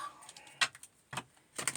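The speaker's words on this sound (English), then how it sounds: "Two more shuffles." Tarot cards shuffled by hand, a few short crisp bursts of card noise separated by quiet gaps, faint and close.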